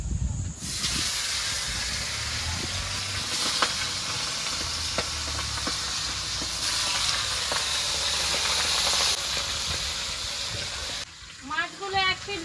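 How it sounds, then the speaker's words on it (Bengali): Fresh tilapia fish frying in hot oil give a steady, close hiss and sizzle that runs unbroken for most of the clip, then drops away near the end. "তেলটা গরম হয়ে গেছে এবার মাছগুলো ভেজে নেবো"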